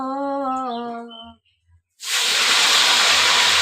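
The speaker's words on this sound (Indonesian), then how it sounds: "Goreng tempe guys," Tempe dropped into hot cooking oil bursts into a loud, sustained sizzling hiss after a brief spoken or sung phrase and a short silence.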